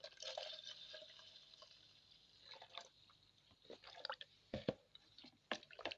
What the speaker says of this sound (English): I'm going to keep adding water to make sure it is well dissolved